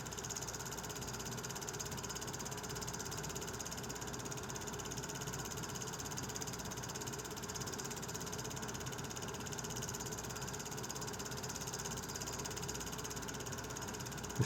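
L&N 152, a steam locomotive in Louisville, Kentucky, rolls slowly with its cylinder cocks open, giving a steady, even hiss layered over a low mechanical rumble that continues unbroken for the whole stretch, with nobody speaking.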